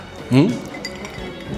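A single bright clink of whisky glasses touching in a toast, close and brief, with a voice speaking around it.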